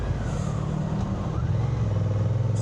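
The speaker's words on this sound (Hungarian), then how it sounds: "Nagyon szépen vált Honda" Honda NT1100 motorcycle riding on the road, a steady engine drone with a rising and settling pitch as it moves through a gear change, continuous and fairly close with wind noise.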